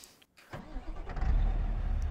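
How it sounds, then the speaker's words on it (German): In Euro Truck Simulator 2, a truck engine starts up: a brief click and pause, then the motor cranks and settles into a deep, steady idle rumble, close and alone. "dann schmeißen wir mal den Motor an"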